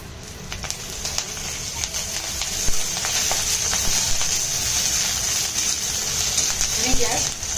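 Oil hits a hot pan while green chilli and garlic thecha cooks, giving a steady crackling sizzle with scattered sharp pops, moderately loud and continuous, with a voice talking over it.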